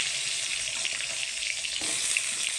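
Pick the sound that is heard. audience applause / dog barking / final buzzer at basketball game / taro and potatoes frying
taro and potatoes frying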